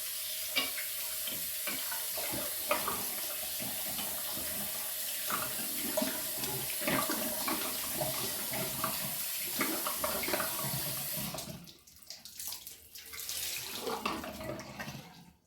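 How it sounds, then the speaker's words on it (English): Water runs from a tap into a sink while a rag is rinsed and wrung, a steady close splashing with irregular wet squelches and drips, ending in a brief pause before more splashing resumes. "rinsing the rag out again."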